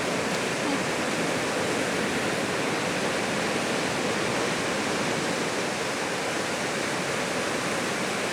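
Steady wash of small ocean waves breaking and rolling onto a surfing beach, a continuous rushing surf that stays even throughout with no voices.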